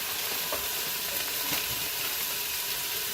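Thai red curry paste frying in a pan, a dense, constant sizzle and hiss with occasional soft stirring scrapes, close and steady throughout, without speech.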